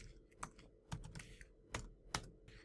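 Someone types a git commit command on a computer keyboard, producing a short burst of quiet, close keystrokes with uneven gaps between them.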